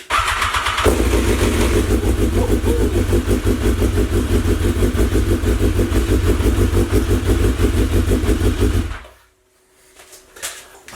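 A BMW S1000R motorcycle engine fires up in neutral and runs loud and close with a rough, pulsing idle for about eight seconds, then cuts off abruptly, leaving near silence with a few faint knocks.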